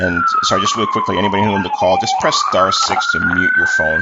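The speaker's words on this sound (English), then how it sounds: "You can hear some sirens in the background there." A siren wails in the background, its pitch slowly sweeping down and back up, while a person speaks continuously over it.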